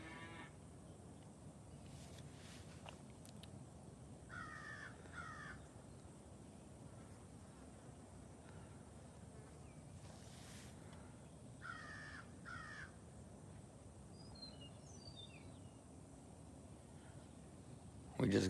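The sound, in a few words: birds and hawks calling on a farm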